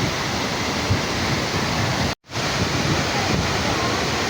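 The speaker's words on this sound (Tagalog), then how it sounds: "Ao Asen Falls with Bamboo the Great." Ao Asen Falls in the Philippines pours in a dense, continuous roar of falling water, loud and close, broken only by a split-second cut midway.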